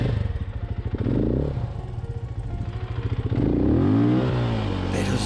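An enduro motorcycle on a rocky trail in Huayhuash, Peru, throbs close by with a low, pulsing engine note that swells into a short rev before settling back.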